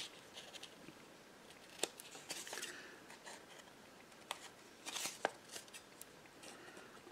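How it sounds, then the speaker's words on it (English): Scissors cutting the edges of paper for a collage paper bag envelope pocket, a few quiet, close snips and paper rustles scattered across seven seconds. "With your scissors, you could taper these edges in a little."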